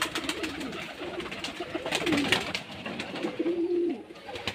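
Several Rajshahi Giribaz pigeons on a Bangladeshi pigeon farm coo in short, low, rolling phrases spaced a second or two apart, nearby, over a constant hiss of background flock noise.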